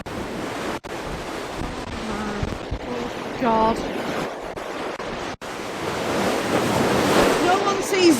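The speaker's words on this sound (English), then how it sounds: "Look at the waves up here." Storm waves crash and surge at high tide on the Blackpool seafront during Storm Agnes, under a constant roaring wind that buffets the microphone, with a brief close exclamation from a person.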